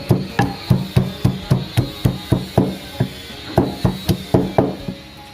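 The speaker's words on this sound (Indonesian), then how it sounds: "kita tumbuk, serainya kita masukkan ya" A pestle pounds lemongrass coarsely in a mortar, about sixteen sharp, close thuds in a steady rhythm of roughly three per second, each with a short woody knock, alone without talk.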